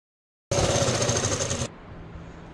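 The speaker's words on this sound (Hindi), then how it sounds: "तो इस पर एक बार सिलाई लगा।" A sewing machine stitches a seam joining panels of a salwar made from an old palazzo, a loud, close, rapid mechanical rattle lasting about a second before it stops and leaves quiet room noise.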